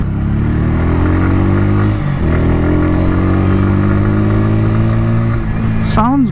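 A Bajaj Pulsar N150 motorcycle revs loud and close, its engine note climbing steadily in pitch, easing off briefly, then pulling up again with a rising whine at the end.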